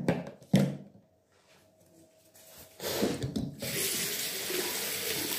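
Tap water gushes into a bathroom sink during a morning face-washing routine, with a brief splash and scrubbing near the start and then a steady, close, continuous stream.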